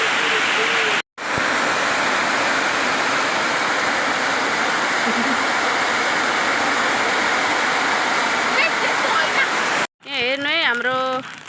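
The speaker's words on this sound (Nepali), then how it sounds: "यो सबै खोल्चाको पानी चाहिँ यता खेततिर आइरहेको छ" Village stream water rushes continuously through a canal toward the fields, a loud steady broadband roar broken by a brief cutoff, with a short burst of speech at the end.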